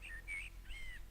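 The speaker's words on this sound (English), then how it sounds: "just go on the whole hog and just put in a fucking bird" A small bird in a video game map gives three short, thin, high chirps in quick succession, faint and isolated over a low ambient hum.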